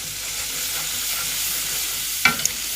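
Spiced masala being sautéed and stirred in a pan for a beef tripe dish, a steady close sizzle with soft scraping, then a sharp spoon clank against the pan near the end.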